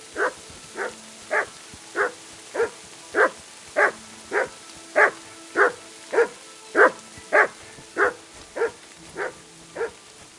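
A single dog in the video game Kingdom Come: Deliverance 2 barks in a steady, evenly spaced series of about sixteen sharp barks, moderately loud and alone against a quiet backdrop.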